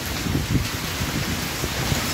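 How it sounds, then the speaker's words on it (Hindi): Heavy rain pours steadily in Dehradun, with large hailstones striking hard surfaces in a dense, continuous roar and scattered louder impacts. There is no talking. "इतने बड़े बड़े ओले पड़ रहे हैं।"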